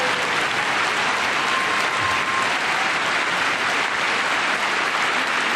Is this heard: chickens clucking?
no